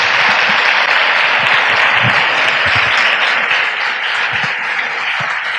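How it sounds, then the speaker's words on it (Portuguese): Sustained, loud applause fills a university lecture hall after a talk by a Zen nun, dense even clapping from a large audience that continues steadily throughout. "Muito bem, salva de palmas também."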